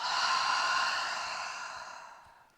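A single long breath pushed out through the mouth during a full-body yoga flow, close and steady, fading gradually over a couple of seconds with no talking.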